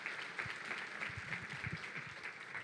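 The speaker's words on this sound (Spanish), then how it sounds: "Vamos a recibirles con un fuerte aplauso de bendición, de gloria a Dios." A church congregation applauds during a Sunday service, a quiet, fairly distant wash of clapping that stays even throughout, with a few low thumps mixed in.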